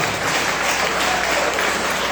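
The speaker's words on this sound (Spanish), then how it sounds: "es un aplauso al Señor" A church congregation at a service claps in dense, loud, continuous applause that fills the room briefly.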